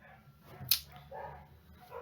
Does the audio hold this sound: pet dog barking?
yes